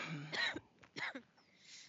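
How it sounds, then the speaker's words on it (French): A person coughs or clears their throat in a quiet room during a hypnosis session, two short harsh bursts about half a second apart, close and fairly faint. "Pourquoi tu tousses?"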